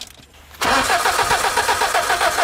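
An old car with a worn-out replacement engine and a poorly contacting battery clamp cranks briefly, then catches and settles into a loud, steady running rumble close by.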